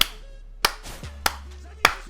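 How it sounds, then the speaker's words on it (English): Three single loud hand claps, spaced evenly about six-tenths of a second apart, ring out in a slow, deliberate rhythm over a faint background hum. "let's give all those bitches around the world a nice slow clap"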